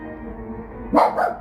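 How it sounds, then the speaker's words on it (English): A dog gives two quick sharp barks, close by, after a moment of quiet background hum. "No barking."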